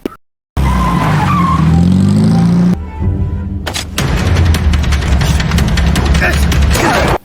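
Tires screech as a car skids out of control during a struggle over a pistol in a Korean action film, a loud sustained skid with engine roar and crashing booms, broken by a brief gap.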